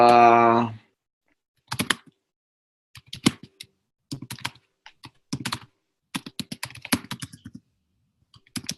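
Typing on a computer keyboard in irregular bursts of sharp clicks separated by short pauses, close and clear, after a brief voice at the start.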